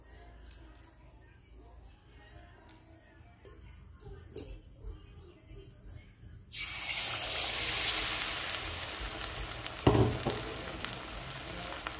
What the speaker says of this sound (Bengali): তেল আমার গরম হয়ে গেছে, এবার তেলে ছেড়ে দেব।